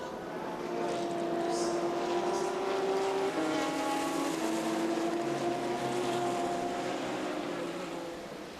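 GT race cars, among them a Lamborghini, roar past at the Dubai 24 Hours endurance race, a steady engine drone with shifting pitch that swells and fades over several seconds, loud and continuous.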